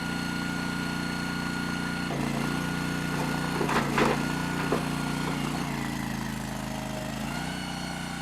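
A commercial wood log splitter engine idles steadily up close, a continuous mid-pitched hum with brief surges and load changes partway through as the machine works.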